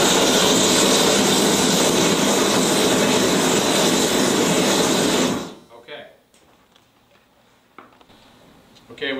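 Propane gas roaring out of a wide-open spit valve at 100 psi, a loud steady broadband rush lasting about five seconds before cutting off abruptly, leaving faint clicks and quiet handling noise.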